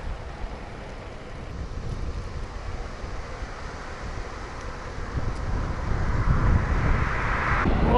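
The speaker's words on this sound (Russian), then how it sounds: "Вот сейчас боковой ветер дует." Steady rushing crosswind on a road buffets the microphone, a broad roar that slowly grows louder and gustier toward the end, with no voices.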